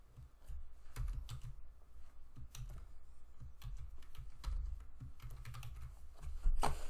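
A password is typed on a computer keyboard as a quiet, irregular run of close keystroke clicks with short pauses and a few quicker bursts, with no voices.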